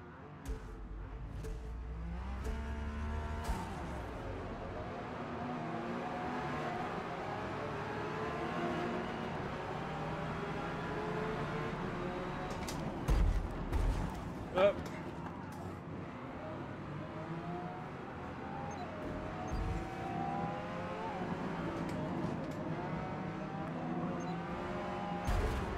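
Race car engines from the Forza Motorsport video game in cockpit view, a steady droning whine rising and falling through gear changes, with a few louder bumps midway and no talk.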